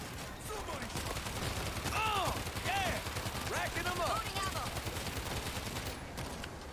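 Sustained rapid gunfire from a co-op zombie fight in World War Z rattles on almost without pause, with shrieking and groaning zombies mixed in and someone talking over the shooting.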